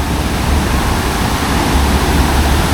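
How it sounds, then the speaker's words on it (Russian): A FlowRider artificial surf wave at a water park gives a loud, steady rushing roar of churning water that fills the whole stretch without pause and with no voices. "Выглядит классно, волна вообще шикарная."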